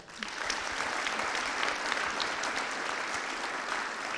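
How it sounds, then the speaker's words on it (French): A room full of people clapping steadily, warm sustained applause from a modest audience, no voices over it. "Je pense qu'on peut l'applaudir."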